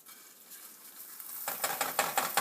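Washed rice toasting in two tablespoons of cooking oil in a pan for Mexican rice; quiet at first, then a close sizzle with a few stirring scrapes in the last second.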